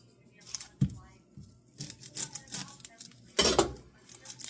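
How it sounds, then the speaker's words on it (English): A knife chops a small yellow onion. There are a few sparse, irregular chopping knocks, close but quiet, over light background noise. "All right, I'm going to start by chopping this up."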